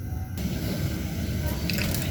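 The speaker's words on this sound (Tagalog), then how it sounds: "Okay, kulong-kulo na po siya." Salmon soup at a rolling boil in a pot, giving a steady close bubbling and simmering rumble throughout, with a faint clink or splash near the end.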